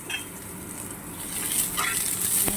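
Seafood sautéing in a pan, a brief close sizzle that grows louder, with light metallic stirring clinks near the end.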